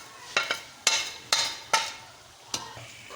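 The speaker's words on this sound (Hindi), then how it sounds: "इसमें हमने आलू बैंगन ऐड कर दिए हैं।" Potatoes and eggplant are tossed in a hot pan with spices: five sharp, close stirring strokes each scrape and clatter, with a soft sizzle underneath between them.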